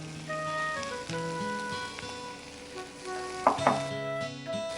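Ridge gourd sautés in a hot pan, a continuous soft sizzle under background music, with a couple of sharp clinks of a spoon near the end.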